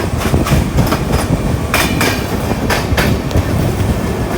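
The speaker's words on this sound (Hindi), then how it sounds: "अभी ट्रेन निकलती है गोंडा से" A train running on rails, loud and close, with a continuous roar, rhythmic clickety-clack of the wheels and occasional metallic squeals, heard from on board.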